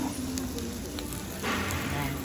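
Egg frying in a hot pan gives a crackling sizzle with scattered pops, swelling louder partway through, while faint voices murmur in the background.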